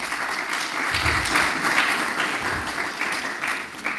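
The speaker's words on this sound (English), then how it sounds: "Could you give them a round of applause, please?" An audience at a public lecture and book launch gives a round of applause for architects, a full, continuous patter of many hands clapping close by, alone without talk.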